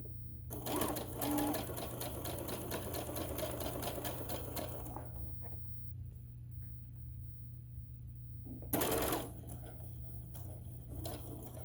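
A sewing machine runs a steady back-stitch along a tote bag seam for about five seconds, stops, then gives one short burst near the end, all over a constant low motor hum.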